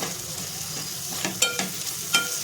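Crushed jaggery and salt being stirred into a ground masala paste in a hot pan, a steady sizzle with several sharp spoon scrapes and knocks near the end.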